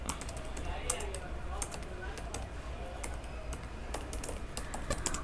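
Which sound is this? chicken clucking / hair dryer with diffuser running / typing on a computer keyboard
typing on a computer keyboard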